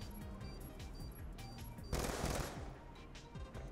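Rapid bursts of automatic fire from a hip-fired Skorpion EVO in Black Ops 2 Search and Destroy, with a denser, louder volley midway amid game sounds.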